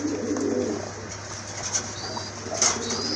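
A male crested pigeon coos in low, soft rolling notes, mixed with brief wing flutters and light clicks, close by with a constant hum behind.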